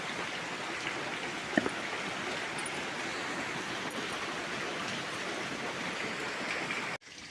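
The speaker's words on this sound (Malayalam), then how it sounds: "ഭയങ്കര മഴയാണ്" Dense, steady roar of heavy rain pouring down, continuous and even, ending abruptly near the close.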